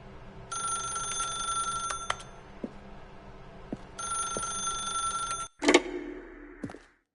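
A telephone rings in The Stanley Parable, two long electronic bell bursts separated by a pause, followed by a click and handling sound as the receiver is picked up, quiet and close with no speech.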